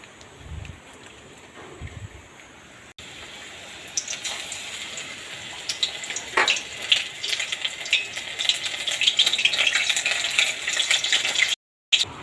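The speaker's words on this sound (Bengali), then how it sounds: "এখন আমি একে একে বড়াগুলো দিয়ে দেবো" Eggplant fritters (begun bora) slide one by one into hot oil in a home kitchen, followed by a soft, building sizzle that grows louder and steadier, with a few light clinks at the start.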